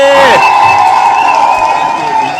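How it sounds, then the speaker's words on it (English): A crowd cheering and applauding, with sustained whoops and shouts over scattered clapping, loud and close for the whole stretch. "Let's give him a round of applause."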